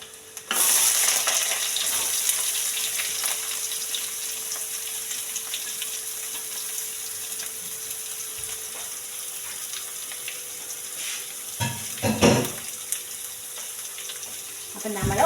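Dried red chillies and onion frying in hot oil after mustard seeds, a loud continuous sizzle that holds throughout with a few stirring scrapes and clatters near the end, for a Kerala curry.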